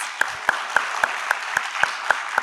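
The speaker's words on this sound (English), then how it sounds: "Let's hear a hearty round of applause" A small debate audience claps after a quarterfinal round, with evenly spaced, distinct claps at a steady rhythm, fairly close and moderate in loudness.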